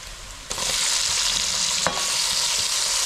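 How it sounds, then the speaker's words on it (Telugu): Tomatoes and green chilies fry in a pan with a loud, continuous hissing sizzle that starts abruptly, broken by a brief scrape of a stirring spoon. "టమాటాలు మెత్తగా వేయించుకోవాలి."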